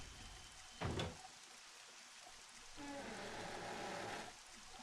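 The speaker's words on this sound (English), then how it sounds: "Yeah, look at these environments. All the rain." Steady rain hisses through a Resident Evil spin-off video game scene, a continuous wash of falling water that swells in the latter half, with a brief thump near the start.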